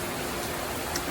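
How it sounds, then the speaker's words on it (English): Steady rain falls outside a house with a backyard pool area, a soft, even hiss of drops throughout with no voices. "it's kind of raining right now"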